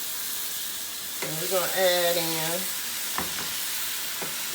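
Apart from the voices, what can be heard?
cube steak browning in a pan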